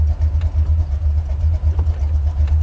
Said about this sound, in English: The drive motor is idling at 900 RPM